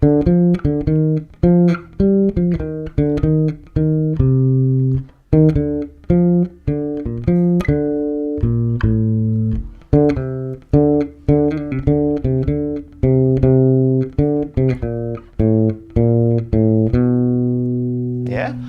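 A plucked bass guitar walks through a steady guide tone line over chord changes, distinct notes close and clear, with short gaps between phrases and no backing track or other instruments.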